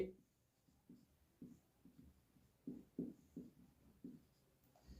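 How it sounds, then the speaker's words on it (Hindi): A pen scratches across paper at a desk while a maths problem is worked out, soft irregular strokes and taps in short bursts, faint and close, with no talking over it. "तो लिखता हूं मैं"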